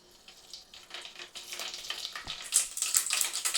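Mustard seeds crackle and sizzle in heated oil while stuffed brinjal curry is being made, a dense hiss with scattered pops building steadily louder over a few seconds, close and alone.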